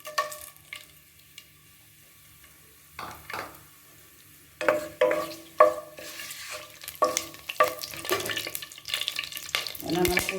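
Whole cinnamon and cloves fry in a pan for crab masala. After a quiet start, a spoon stirs and scrapes against the pan in close, uneven strokes over a soft sizzle.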